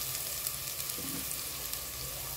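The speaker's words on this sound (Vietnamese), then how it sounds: "Khi đường nó vàng rồi mình cho tỏi băm vô nha các bạn cho nó thơm." Minced garlic frying in caramelized sugar for Vietnamese braised pork and eggs gives a constant, close, even sizzle with faint stirring and no talk.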